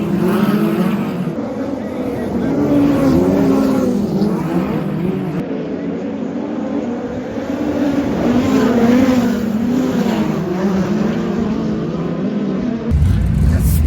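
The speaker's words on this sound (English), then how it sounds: "Speed cars are so good here." V8 dirt modified and late model speedcars racing on the dirt track at Sydney International Speedway, a steady roar of engines under a commentator's continuous talk.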